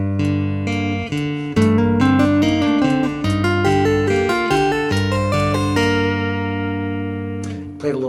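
Chapman Stick tapping a repeating seven-note pattern in even eighth notes over a sustained bass chord, bright plucked tones cycling steadily and shifting against the beat, close and clear with no voice.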